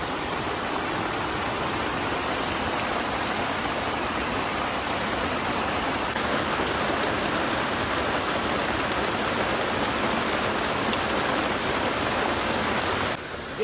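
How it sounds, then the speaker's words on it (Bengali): Heavy rain pours down steadily during a storm over a countryside road and fields, a dense, loud, unbroken hiss of water that holds at the same level throughout, with no thunder or voices. "দেখো এত জোরে বৃষ্টি হচ্ছে, রাস্তায় সব জল জমে গেছে।"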